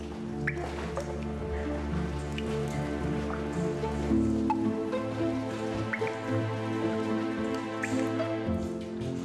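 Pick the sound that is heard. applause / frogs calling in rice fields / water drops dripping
water drops dripping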